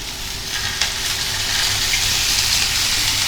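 Olive oil sizzles steadily in a dry pan before pork belly goes in, a dense, even hiss with one small pop near the start, close and alone with no talk.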